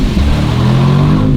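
A 2026 Porsche Panamera Turbo S exhaust gives a loud, steady low drone with a rising engine note, close up and continuous, with no voices over it.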